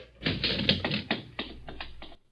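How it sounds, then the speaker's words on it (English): A quick series of sharp raps on a door, about ten close taps in an uneven rhythm, loud and alone, fading at the end. "I've been knocking at your door the longest time."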